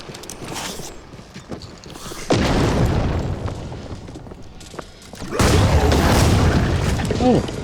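Grenade explosions in the isometric open-world RPG DDoD land as two loud, broad booms with rumbling tails a few seconds apart, and someone speaks quietly between and over them.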